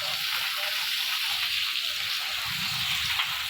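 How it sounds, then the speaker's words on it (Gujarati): Steady water pouring into a temple bathing tank at Droneshwar Mahadev in Gir Gadhada, a constant hissing gush that runs unbroken and fairly close throughout. "જે કોઠિયા દેવ જે છે તેમાં પાણી આવે છે"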